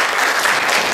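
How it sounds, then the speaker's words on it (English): Audience applause fills a conservative candidates' forum, a dense, steady wash of clapping from a crowd that holds loud and even for the full second with no talk over it. "You deserve a big round of applause for yourself being here."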